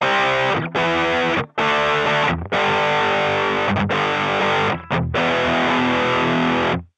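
Electric guitar through a JHS Double Barrel overdrive pedal with gritty overdrive plays sustained, thick chords, each ringing out before short breaks, loud and close with no voices.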